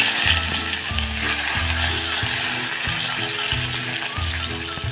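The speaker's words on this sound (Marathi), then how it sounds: "आता टाकायची ही हिरवी मिरची हा कढीपत्ता" Green chilies and curry leaves sizzle in hot oil with mustard seeds and asafoetida for a dosa-style potato bhaji, giving a loud, steady, close crackle throughout with a rhythmic low mechanical thrum underneath.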